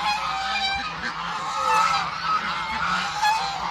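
A flock of geese from a neighbour's large backyard flock, mixed with ducks, honks and calls continuously at close range, with overlapping loud cries and no talking.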